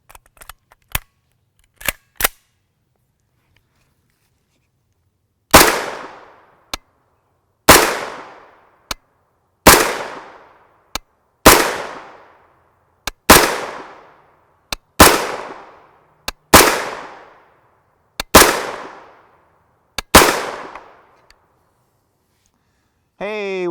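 A CMMG 300 series 9mm carbine fires 124-grain FMJ nickel-coated steel-case ZQI rounds. About ten sharp, loud reports come at an even, unhurried pace, each with a short echoing tail, after a few faint clicks of handling.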